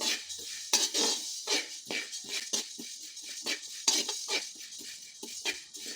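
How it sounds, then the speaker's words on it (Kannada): Urad dal being stirred as it dry-roasts in a pan: quick, rhythmic scraping and rattling strokes of a spoon against metal, close and fairly clear, with a faint crackle and no talking. "ಕೈ ಬಿಡ್ದೇನೆ ಉದ್ದಿನಬೇಳೆನ ಹುರಿತಾ ಇರಬೇಕು."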